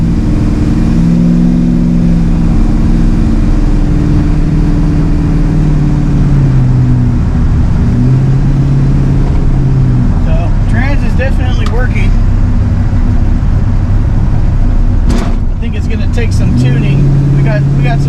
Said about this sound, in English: First gear, second gear, third gear, I think, fourth gear.